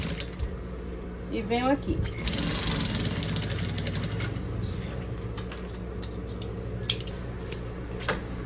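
A sewing machine stitches a seam on a small fabric box lined with milk carton material, with a short backstitch; close mechanical whirring and rapid clatter run under a voice speaking Portuguese.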